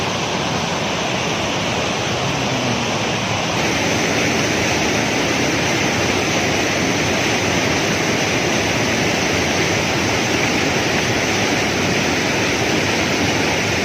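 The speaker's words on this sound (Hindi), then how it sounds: "बहुत ही खूबसूरत वाटरफॉल है, हम पहुंच आए हैं उसके पास" A waterfall near a hiking trail roars as a dense, constant rush of falling water, loud and close, holding steady throughout with no voices.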